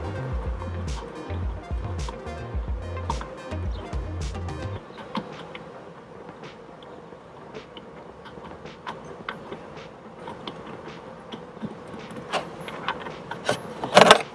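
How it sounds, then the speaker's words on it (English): A wrench works a spark plug loose on a JetSurf motorized surfboard, giving faint metallic clicks and ratcheting ticks scattered over quiet background, with a few sharper clinks near the end. "grab your wrench. You're going to go clockwise. So this will open up the spark plug"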